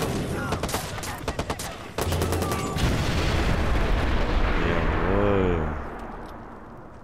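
Heavy gunfire in the video game Watch Dogs, with rapid bursts of shots and booming impacts filling the scene, loud and close, while someone speaks briefly over it.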